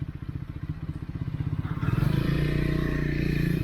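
Triumph Scrambler 400 single-cylinder engine pulses in a fast, regular thump that rises in pitch and then holds a loud, dense revving drone as the bike pulls hard.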